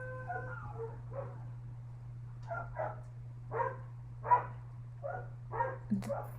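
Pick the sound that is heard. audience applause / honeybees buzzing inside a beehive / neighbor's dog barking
neighbor's dog barking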